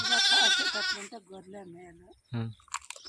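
A sheep in a farm flock lets out one loud, wavering bleat close by, then people talk, with a shorter animal call or voice bursting in briefly near the end.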